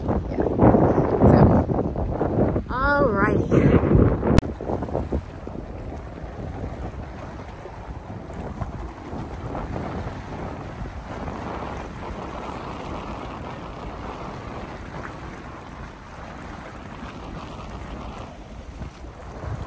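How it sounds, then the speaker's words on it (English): Strong wind sweeping over a choppy lake at Lake Livingston, gusty buffeting on the microphone with water slapping and churning nearby, loudest in the first few seconds and then settling to a steady blustery wash, with a brief spoken word early on. "it's quite choppy now because it's so windy"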